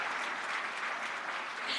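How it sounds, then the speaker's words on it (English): Brief burst of continuous audience applause at a sport awards ceremony in Namibia, many hands clapping evenly at moderate loudness. "I think we can give them another round of applause."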